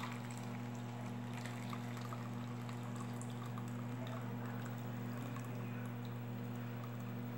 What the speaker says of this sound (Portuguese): vou passar pela peneira